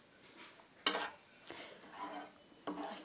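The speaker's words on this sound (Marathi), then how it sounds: "त्यामध्ये चम्मच फिरवत राहायचं आहे" A spoon scrapes and stirs semolina roasting in ghee in a pan, a few distinct quiet scraping strokes at close range with a faint sizzle between them.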